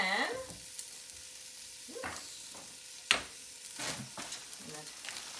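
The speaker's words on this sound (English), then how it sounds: "You can hear that sizzling in there." Steady sizzling from a stock pot holding a chicken carcass, with scraping stirs and clinks of a utensil against the pan.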